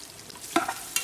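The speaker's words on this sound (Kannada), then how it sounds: "ಸ್ವಲ್ಪ ಬ್ರೌನ್ ಕಲರ್ ಆಗೋವರೆಗೂ ನೀಟಾಗಿ ಫ್ರೈ ಮಾಡ್ಕೊಳ್ಳಿ" Onions being fried and stirred in a pan for mutton biryani, a soft sizzle with a couple of sharper scraping stirs standing out, fairly close but quiet, with no voices.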